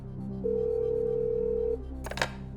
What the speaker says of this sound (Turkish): Çalıyor telefon Abdullah diri koçun.